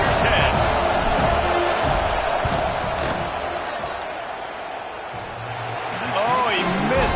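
Football stadium crowd roaring during a field goal attempt in a Notre Dame versus USC game, a loud sustained wash of noise that dips midway and swells again, with a commentator talking over it.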